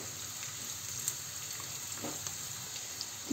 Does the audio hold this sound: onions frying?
yes